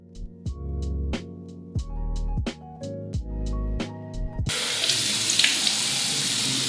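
Tap water runs steadily into a sink during a facial rinse, washing off cleanser; the first part has intermittent splashing and rinsing between bursts, then a continuous, close, full flow to the end.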